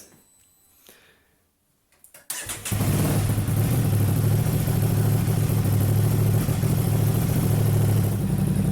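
After a few faint clicks and near-silence, an Aprilia RS660 motorcycle with an Arrow exhaust cranks and fires, then settles into a loud, steady rumbling rev.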